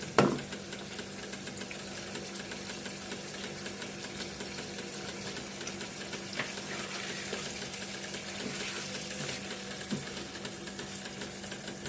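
Garlic sizzles in a hot pan for mutton karahi, a steady soft crackling hiss that begins with a brief clatter as it goes in, then continues evenly and fairly quietly with no talking.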